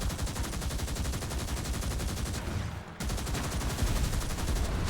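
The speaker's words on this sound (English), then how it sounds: "I guess those are turrets shooting me on those ships" Turrets on ships fire at the player's vehicle in SpyHunter 2, a dense rapid rattle of gunfire that drops out briefly midway and then resumes just as loud and continuous.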